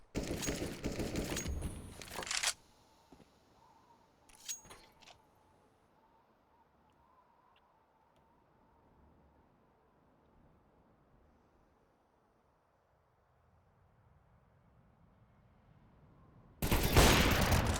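Gunfire bursts from a competitive shooter video game match at an esports main stage event, with loud rapid volleys at the start, a brief pop midway, quiet stretches, and another heavy burst at the end.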